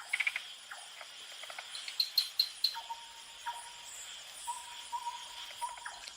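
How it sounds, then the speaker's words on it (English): Nighttime rainforest wilderness: an owl hoots repeatedly at a distance over a dense, steady chorus of insects and tree frogs, with short chirps and calls scattered through, fairly quiet and no voices. "A night owl,"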